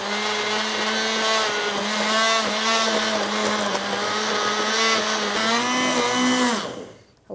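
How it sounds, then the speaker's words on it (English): Handheld immersion blender pureeing a dish to accompany lamb lollipops, a steady high motor whine with shifting pitch as it works through the food, cutting off at the end. "I have this handheld immersion blender"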